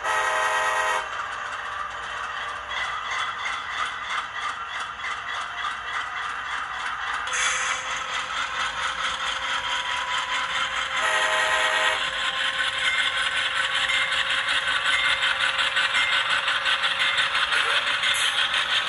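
A ScaleTrains HO scale CSX AC4400CW model locomotive, sound turned up to maximum, sounds its horn in several long blasts over steady mechanical engine rumble, loud and close.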